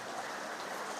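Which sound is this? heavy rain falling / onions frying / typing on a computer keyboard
heavy rain falling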